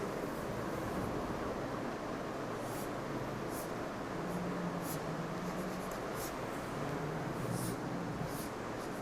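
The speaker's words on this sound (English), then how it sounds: "Let me draw the diagram for this." Chalk scratching across a classroom board in short repeated strokes during a physics lesson on Kirchhoff's law, drawn over a steady hiss of room noise with no voice.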